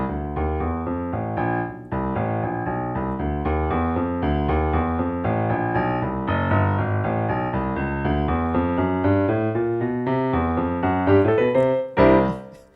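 Jazz walking bass line on piano, steady stepping low notes under chords running continuously for several bars, loud and close with no talk.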